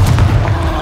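Confringo blasting spell from the Hogwarts Legacy video game, a single loud, close, booming explosion with a heavy low thud that fades quickly.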